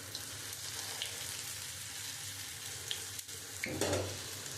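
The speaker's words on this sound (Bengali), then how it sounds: "লাল লাল করে আমি ভেজে নিয়েছি এপিট ওপিট করে" Pieces of jackfruit-seed dhoka fry in hot oil in a pan with a steady, close sizzle and a few soft clinks and stirring sounds.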